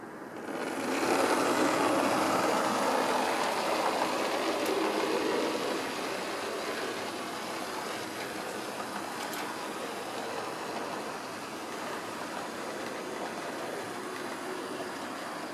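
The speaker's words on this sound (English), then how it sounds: "I'm now going to run the train over the turnout" A small model train rumbles steadily along the track, a continuous rolling clatter with faint clicks as it crosses a turnout, no voices.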